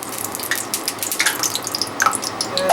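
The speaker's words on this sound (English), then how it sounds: "Time to find out if the oil's hot enough. So take a little bit of water." A little water dropped into hot frying oil to test its heat for jaegerschnitzel, giving scattered sharp crackles and spits over a faint sizzling background, close and without talk.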